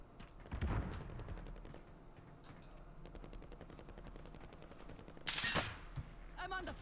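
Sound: gunfire in a video game

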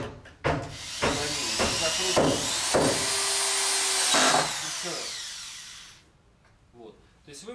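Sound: cordless screwdriver driving into wood

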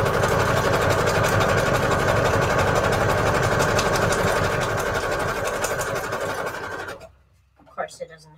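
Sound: sewing machine stitching fabric scraps

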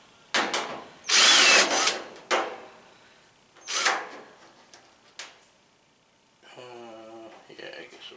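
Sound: power drill removing screws from Whirlpool dryer panel

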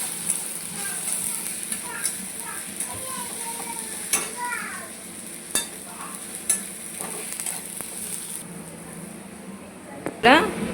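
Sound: frying Bombay duck fish with chili powder, turmeric and salt

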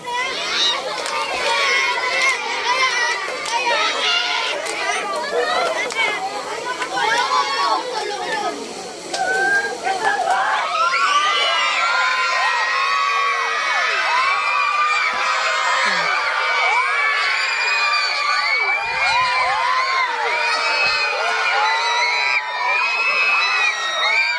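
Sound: crowd of extras shouting during a film shoot

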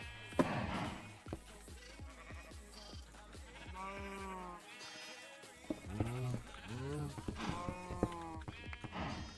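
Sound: sheep bleating in a video game

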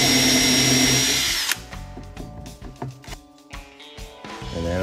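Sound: drill pre-drilling holes in wood

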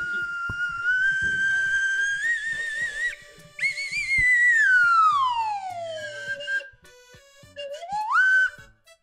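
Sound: slide whistle solo

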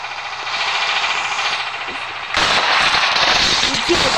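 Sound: grenade explosion in video game Melon Playground

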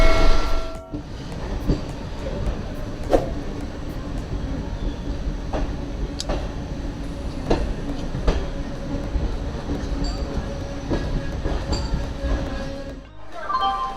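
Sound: moving passenger train

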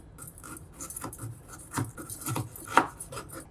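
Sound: cutting gooseberries (amla) into small pieces

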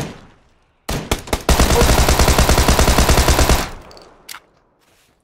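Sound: gunfire from PUBG video game

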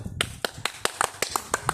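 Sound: people clapping hands

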